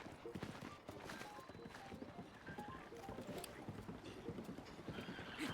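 A horse gallops in the video game Breath of the Wild, its rapid clip-clop hoofbeats running steadily through the whole stretch, with a brief whinny and faint game sounds mixed in.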